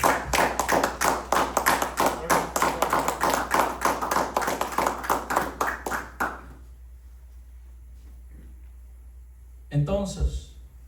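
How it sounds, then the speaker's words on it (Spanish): A church congregation claps in a loud, rhythmic unison burst for about six seconds, then stops, leaving a low hum before a voice begins. "Dale una ofrenda de palmas fuerte al Señor."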